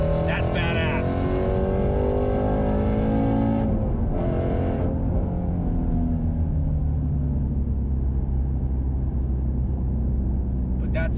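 A Ford Mustang Shelby GT350R engine rumbles loudly with a deep, sustained drone that sinks slowly in pitch as the revs fall away. Someone talks over it.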